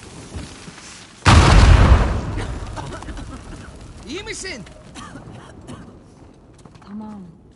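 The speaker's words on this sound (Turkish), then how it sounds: "Duyduğumuz patlamanın ne olduğunu biliyoruz." A sudden heavy explosion in the Uncharted 4 video game booms out and rolls off into a long rumble, with game voices and sound effects following in the quieter stretch.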